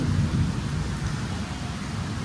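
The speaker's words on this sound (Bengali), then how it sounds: "এরকম বিদ্যুৎ চমকাচ্ছে আর এই পরিমাণে বৃষ্টি হচ্ছে সাডেনলি" Sudden heavy rain pours steadily during a thunderstorm with lightning, a dense, continuous wash of close rainfall with low rumbling underneath and no voices.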